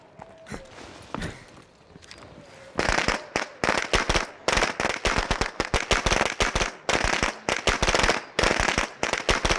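A thrown explosive detonates in the zombie survival game State of Decay 2, setting off a rapid, loud series of sharp crackling pops and bangs after a quieter stretch of scattered clicks and thuds.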